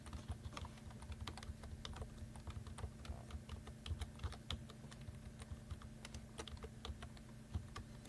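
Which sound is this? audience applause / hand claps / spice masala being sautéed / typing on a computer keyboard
typing on a computer keyboard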